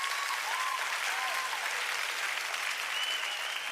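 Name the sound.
audience clapping for candidates at a town hall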